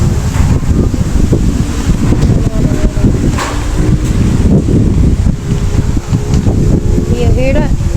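Heavy wind buffets the microphone outdoors, a loud continuous low roar and rumble filling the whole stretch, with faint voice-like sound mixed in.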